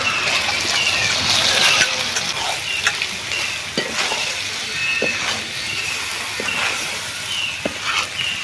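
Pasta tossed into chicken feet masala sizzles loudly in the pan while a spoon stirs it, with scattered scrapes and clanks over a constant frying hiss.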